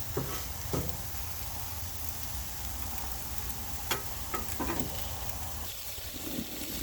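Pineapple and vegetables sizzling on a Blackstone griddle, a steady dense frying hiss with occasional faint clicks and scrapes, continuous and moderately close.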